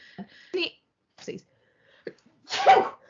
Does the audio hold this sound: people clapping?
no